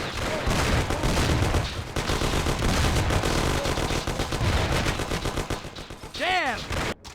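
Gunfire in the video game Mafia: The City of Lost Heaven: loud, continuous rapid bursts of shots filling the clip, then a brief sweeping whoosh near the end.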